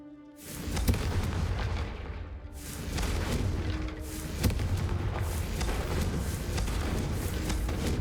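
Booming fire-spell blasts from the Confringo spell in Hogwarts Legacy, two heavy explosions with rumbling tails, each blast hitting sharply and then rolling on loudly.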